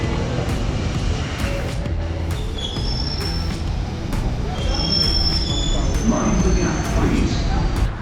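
A train approaching a station, a loud, steady rumble of rolling rail traffic with repeated high metallic wheel squeals building over the constant din.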